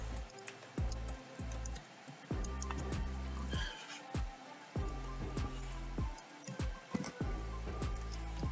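A horse in the game Minecraft, heard as short repeated whinnies and snorts mixed with a scattering of small clicks and taps, fairly quiet and close, with brief gaps of near silence between bursts.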